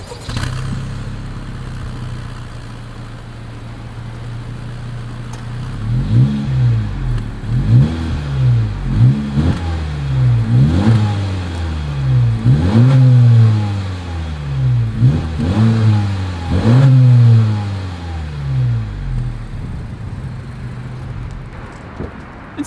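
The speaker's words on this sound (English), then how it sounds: "here is that exhaust clip" A 2021 Honda Civic hatchback Sport's exhaust, idling and then blipped through about nine sharp, rising revs in a steady rhythm, loud and close, with no talking.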